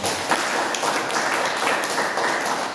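A church congregation in Lumajang applauds together, a steady, dense wash of clapping that stays even and fairly loud throughout, with no voices standing out.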